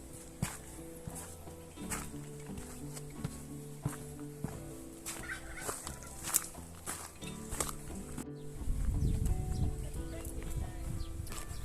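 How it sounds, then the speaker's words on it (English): Pigs run past on an off-grid homestead, their hooves thudding in a busy, irregular clatter over a steady background, with a heavier rumbling burst near the end. "Thundering pigs."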